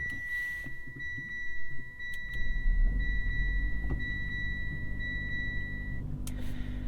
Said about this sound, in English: Mitsubishi's chime is certainly not my favorite, but as you can see, we're running the internal combustion engine right now.